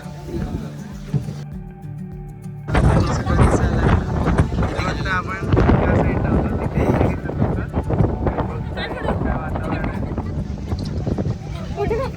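Strong wind gusts buffet the microphone on a hilltop at Matheran, a steady roaring rush that starts low, then swells loudly after a few seconds and stays heavy to the end, with a voice talking underneath.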